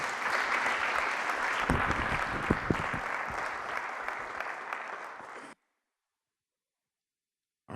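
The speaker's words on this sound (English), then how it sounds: "A big round of applause." An audience at a community event breaks into sustained applause, dense clapping that holds steady for about five seconds before cutting off abruptly, with no voices heard.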